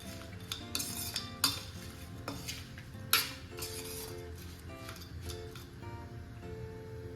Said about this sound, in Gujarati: તો આ રીતે આપણે મિક્સ કરતા જઈશું